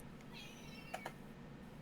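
A cat meows once in the background, a faint drawn-out cry, followed by a couple of soft clicks under low room noise.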